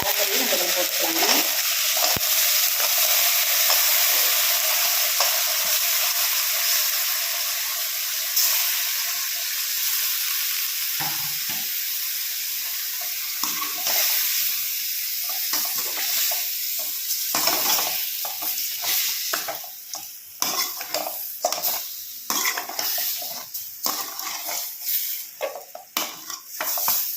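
Goat head meat sizzles loudly in a hot pan, a dense continuous frying hiss, with a spoon scraping and stirring in irregular bursts that grow busier toward the end.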